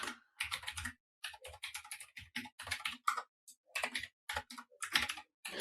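A computer keyboard is typed on in quick, irregular bursts of light clicks separated by short pauses, close by and fairly quiet.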